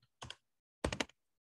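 Two short bursts of computer keyboard keys are clicked at close range, separated by a pause, in an otherwise quiet room.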